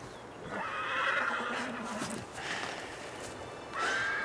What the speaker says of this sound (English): Beautiful stallion.